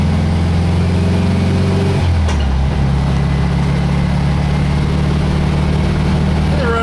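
An engine pulling in third gear gives a steady, loud drone. Its pitch steps down about a third of the way through, then holds even and sustained to the end.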